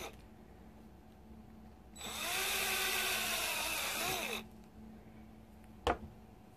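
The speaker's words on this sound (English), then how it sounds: "if you go slow, the drill bit should kind of guide itself through" A power drill whirs up close for about two seconds, its pitch sagging as a 1/8 inch bit bores into 3D-printed plastic, then stops, followed by a sharp click.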